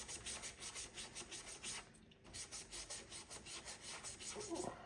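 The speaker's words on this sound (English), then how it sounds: "The sanding paper tells you immediately where you've been and where you haven't been." Steady back-and-forth rasping of sandpaper on a model grain wagon, rhythmic strokes close by with a brief pause midway.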